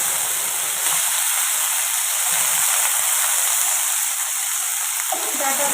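Drumstick stalks sizzle and hiss steadily in hot oil while being stirred, a close, continuous fry for a vegetarian dish with potatoes and lentil dumplings, with brief scraping near the end.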